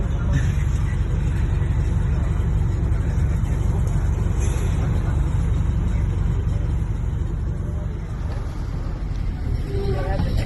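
A bus rumbles along a bumpy road in Nayarit, Mexico. Loud engine and road noise stay steady throughout, with rattles and jolts from inside the cabin, and a faint high whine runs above.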